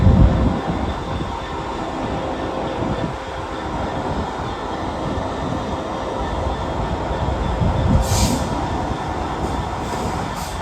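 A Class 66 diesel freight locomotive rumbles steadily through a station platform with a constant low drone and rolling noise, loud and close, with a brief hiss of higher noise near the end.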